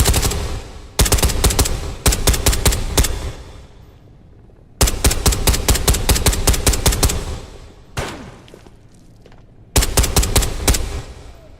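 Bursts of automatic gunfire in the VR shooter Ghosts of Tabor during a solo PvE raid, four loud rapid volleys of closely spaced shots separated by short pauses, with no talk over them.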